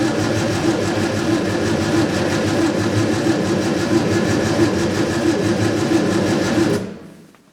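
Fiat 600 engine turned over on a hot-wired ignition, a loud, steady, fast mechanical cranking churn that runs unbroken for several seconds and then cuts off abruptly into silence.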